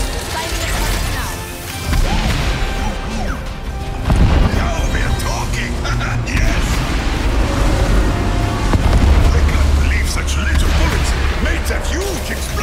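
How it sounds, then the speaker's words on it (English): A loud, booming explosion in Overwatch 2 with crashing debris and rumbling, followed by chaotic game effects and a lingering roar. "A huge explosion! Bang!"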